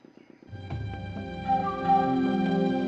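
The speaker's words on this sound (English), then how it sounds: "The motor spluttered into life." Motor of a simple wooden platform lift sputtering into life in a video game, a few soft chugs giving way to a steady mechanical hum with ringing tones that builds and holds, moderately loud and close with no voices.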